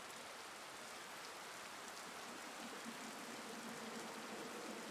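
Steady, even hiss of distant rain in the video game Tsukihime, a soft continuous wash that holds unbroken and alone from start to finish.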